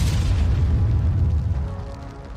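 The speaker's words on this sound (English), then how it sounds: "when they hit vehicles carrying ammunition, the result is often a massive explosion" A vehicle carrying ammunition is hit and blows up in a massive explosion, a loud deep boom with a heavy low rumble that slowly fades away.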